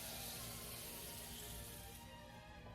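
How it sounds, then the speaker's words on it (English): Four cups of water poured into a pot of dried elderberries for syrup: a steady broadband splashing rush that runs without a break, then thins slightly near the end, with no talking. "I'm gonna add in 4 cups of water."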